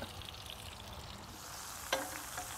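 An aged ribeye sizzles steadily as brown butter is spooned over it in a wood-fired pizza oven running around 700 degrees, a constant close frying hiss with a brief clink of the spoon.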